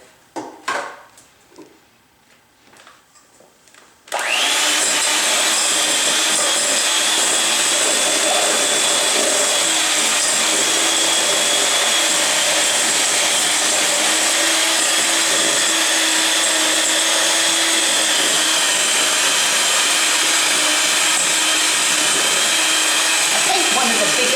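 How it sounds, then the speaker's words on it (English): An electric mixer whirs loudly and steadily as it blends a no-bake French silk pie filling. A few quiet knocks and movements come first, then the motor runs without a break to the end. "we continue to mix until this is well blended"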